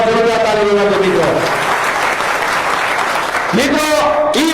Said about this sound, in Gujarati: એકવાર જોરદાર તાળી વગાડો મિત્રો.